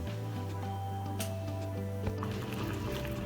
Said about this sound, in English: Now the egg is cooking and boiling